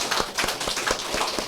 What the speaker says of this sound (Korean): 박수로 맞아